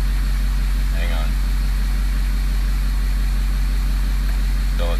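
Car engine idling steadily after starting, with a low hum and fan-like hiss; during a diagnosis of a bad number three injector, a voice speaks briefly twice over it.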